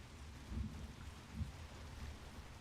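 Steady rain falling on a roof in a game under development, a soft continuous hiss with a few low thumps swelling through it, heard alone.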